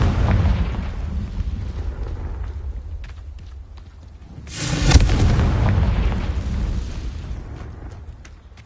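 A Confringo explosive spell blast in Hogwarts Legacy: one loud burst near the middle, a broad boom that swells and fades slowly, set against a continuous rumbling game background.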